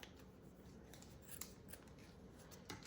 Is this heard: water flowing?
no